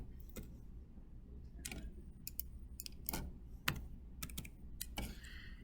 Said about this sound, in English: Simply going to type in down here